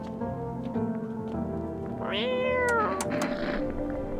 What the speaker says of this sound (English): You reach out and pet the cat.